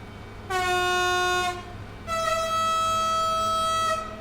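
A BR 193 Vectron locomotive in Train Sim World 5 sounds two loud, sustained horn blasts as it starts to move, a one-second tone and then a longer two-second tone over a low steady engine hum.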